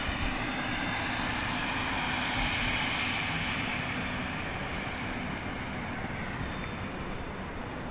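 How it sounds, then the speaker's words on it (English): A Cessna 680 Citation Sovereign business jet landing at Dallas Love Field, heard as a loud, steady broadband engine roar with wind-like rush that holds constant for the whole stretch, with no talk. "This is a Cessna 680 Citation Sovereign."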